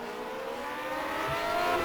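Race cars in the Grand Prix Legends video game at Twin Ring Motegi. A steady, loud engine drone holds throughout as the cars run at speed, with no voices.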